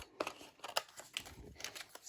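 Scissors snipping through a paper image being fussy cut for a handmade easel spinner card, a series of quiet, close, irregular crisp cuts with faint paper rustling.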